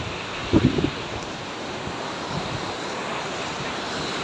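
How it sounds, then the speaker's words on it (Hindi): High-pressure waterfall water rushes at a new trout fish point near Batakundi in Naran Kaghan. It makes a steady, loud broadband roar that continues throughout, with a brief low thump near the start. "पानी का प्रेशर देखो माशाल्लाह।"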